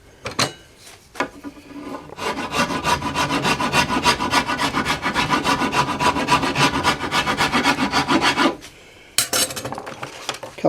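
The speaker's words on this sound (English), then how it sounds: "Couple of strokes with the rasp" Rasp filing a yew bow limb near a knot, with steady rhythmic scraping strokes, close and fairly loud, a few taps before and after the run of strokes.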